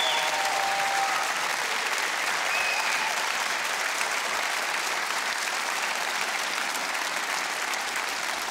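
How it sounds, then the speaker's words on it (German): A studio audience at a TV show applauds in a dense, sustained wash of clapping from many hands that stays loud and even for about eight seconds, with no talking over it. "Applaus, total!"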